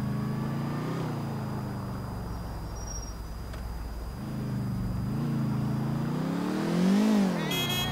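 A car in Grand Theft Auto IV drives along with a steady engine drone, dipping and then revving up twice with rising pitch, the last rev loudest near the end, with a faint high insect-like chirp in the background.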